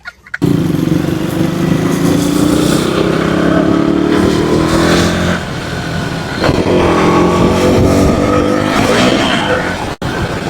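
A motorcycle engine runs loud and close, holding a steady rumble with a couple of rising revs, then a sudden brief cut near the end.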